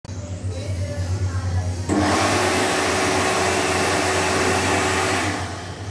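A Mediclinic Optima electric hand dryer blows air with a loud, steady whoosh and motor whine that jumps to a stronger, harsher roar partway through and then stays level.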